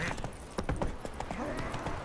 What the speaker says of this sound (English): Fucking horse flipped the hell out there.